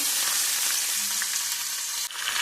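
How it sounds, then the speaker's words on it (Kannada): Potatoes frying in a pan: a dense, continuous bright sizzle close to the microphone, steady and fairly loud throughout, with a brief dip near the end and no voices. "ನಾನು ಅದು ಫ್ರೈ ಮಾಡೋದು ಇದರಲ್ಲಿ ಆಲೂಗಡ್ಡೆನೂ ಹಾಕಿದ್ದೀನಿ"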